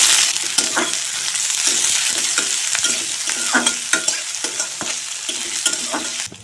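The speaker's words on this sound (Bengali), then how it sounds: "এখন দিয়ে দেব পেঁয়াজ কুচি" Chopped onion frying in hot oil in a wok, with a steady bright sizzle and repeated sharp scraping strokes of a stirring spatula, close and fairly loud with no voices.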